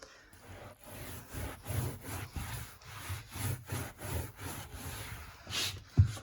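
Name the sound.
rubbing dye into carpet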